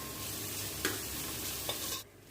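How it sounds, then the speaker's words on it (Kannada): Chopped onion and crushed ginger-garlic paste fry in oil for drumstick sambar, a continuous close hissing sizzle with a couple of brief stirring scrapes, cutting off abruptly near the end. "ಹಾಗೆಯೇ ಜಜ್ಜಿಟ್ಕೊಂಡಂತಹ ಶುಂಠಿ ಬೆಳ್ಳುಳ್ಳಿ ಪೇಸ್ಟನ್ನು ಹಾಕಿ ಚೆನ್ನಾಗಿ ಫ್ರೈ ಮಾಡ್ಕೊಳ್ಬೇಕು 2 ನಿಮಿಷ"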